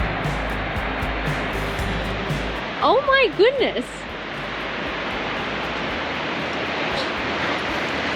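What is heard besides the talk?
waterfall at Fish Creek Falls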